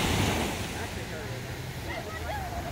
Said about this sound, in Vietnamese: Nghe tiếng sóng biển nữa.